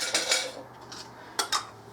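A metal jar lid is handled while canning baked beans, giving a few light metallic clinks and rattles at close range, with two sharp taps near the end.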